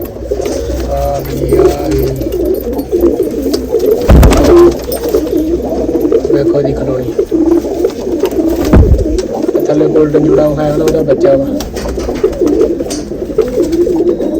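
Pigeons coo steadily and close by in a loft full of breeding birds, overlapping in low rolling calls throughout, while someone talks over them and a couple of sharp knocks stand out.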